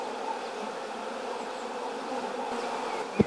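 Honeybees buzz around a brood comb being lifted from the hive, making a steady, close, dense hum, with a brief knock near the end.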